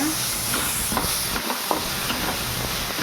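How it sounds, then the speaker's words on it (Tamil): Onions and other ingredients being sautéed in a pan for a spinach curry, a loud, continuous sizzle and hiss close up, with stirring strokes sounding through it and no talk. "இது நல்லா வதங்கிடுச்சு"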